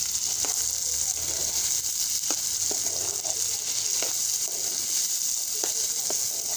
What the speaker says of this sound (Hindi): ये सब चीज़ हम साफ़ फ्राई करेंगे।